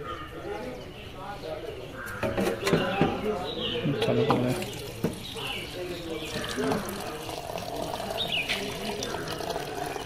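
Water runs from a tap at a temple in Uttar Pradesh, a steady splashing stream into a container, with birds and crows calling around it and people talking nearby.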